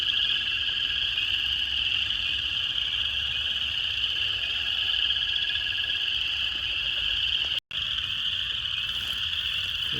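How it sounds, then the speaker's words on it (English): A dense, steady spring night chorus of chorus frogs, spring peepers and toads in Missouri: high peeping and continuous trilling croaks, with no pause throughout. "we got chorus frogs, peepers, and toads that I hear"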